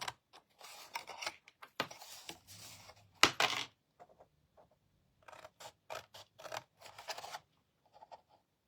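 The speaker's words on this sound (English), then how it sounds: "turn it around and cut these the same way right up to that score line" Scissors snip through scored cardstock in a series of short, crisp cuts separated by brief pauses, with a sharper clack partway through, all close and unaccompanied by voices.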